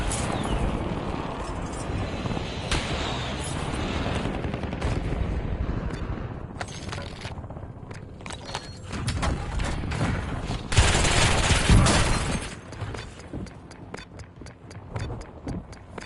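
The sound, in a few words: gunfire from a video game, Call of Duty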